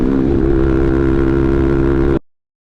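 Sport motorcycles on a group ride, including a Yamaha R15 V3 and an MT-15, give off a loud, steady engine drone close by that holds for about two seconds and then cuts off abruptly.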